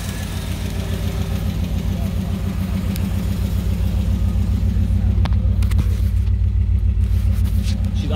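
A car engine idles a little too high after a timing chain replacement, giving a steady, close, low rumble that holds evenly and swells slightly toward the end.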